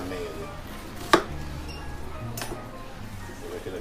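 Onion being cut with a knife on a cutting board while preparing Lebanese baba ghanoush and tabbouleh: one sharp close knock of the blade, then a softer second chop, with quiet kitchen background between.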